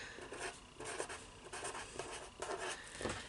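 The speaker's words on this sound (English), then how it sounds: "I'm going to write Chloe is right" A pen writes on paper during a math lesson, giving faint, soft scratching strokes in short bursts with tiny pauses, close and quiet.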